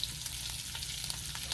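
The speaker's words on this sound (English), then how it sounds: "You're cooking off the fat before you actually cook the bacon" Bacon sizzles in a pan over high heat as its fat renders, giving a dense, steady crackle with frequent small pops, close and even throughout.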